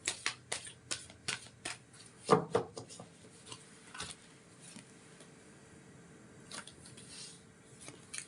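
A deck of cards for a card reading is shuffled close up in quiet, repeated riffling bursts with soft taps, fading into faint handling noise.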